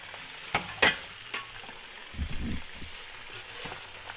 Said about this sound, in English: Oh yeah, that's a nice piece of fried fish